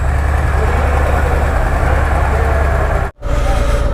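A Harley Davidson motorcycle idles while warming up before a Himalayan ride in India, a loud, close, steady low rumble that cuts out for a moment near the end before resuming.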